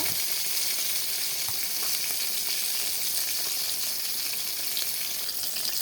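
Eggplant frying in a pan, a bright continuous sizzle close by with a few faint ticks of the pan, steady throughout.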